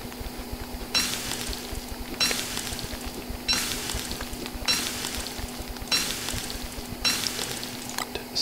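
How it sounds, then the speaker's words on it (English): Sizzling cooking effects from the video game Don't Starve, six evenly spaced bursts of frying hiss roughly a second apart over a steady low hum. "let's quickly cook these as well"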